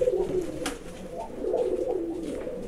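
Red-coloured pigeons kept by a breeder coo in low, soft, repeating calls close by, forming a steady murmur with no talk over it.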